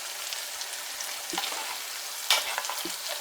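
Spinach saag puree added to a sizzling curry pan, frying crackle and sizzle with stirring scrapes and a few sharp clinks of a utensil against the pan, close and moderately loud.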